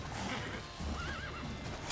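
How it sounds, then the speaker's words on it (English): A horse in The Witcher 3: Wild Hunt gives a clear, fairly close whinny with a wavering pitch, with faint hoof clopping underneath. "Well, that came from a horse."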